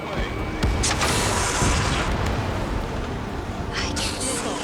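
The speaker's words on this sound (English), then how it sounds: "Missile away." A missile launches and explodes in Ace Combat 7 aerial combat, giving a loud, dense roaring blast with a sustained rumble and a couple of sharper bursts.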